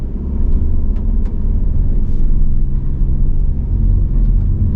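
An MPV's engine roars hard and steadily as it accelerates from a standstill on a wet road during a rainy drag test, the loud drone continuous throughout.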